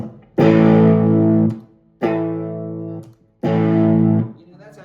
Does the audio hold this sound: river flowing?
no